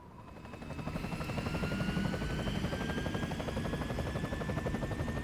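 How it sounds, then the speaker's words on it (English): A helicopter in the Resident Evil 4 Separate Ways game spins up and hovers close by, its rotor chopping in a steady rapid rhythm with a whining turbine tone on top, loud and alone. "The chopper."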